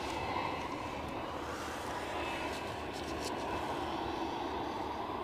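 An EasyJet jet departing Edinburgh Airport sends out a steady, broad engine roar that holds at an even loudness throughout, heard from a distance with no speech over it.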